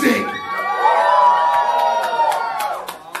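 A crowd at a rap concert in a club cheers and screams loudly for about three seconds, with whoops and shouts rising and fading together.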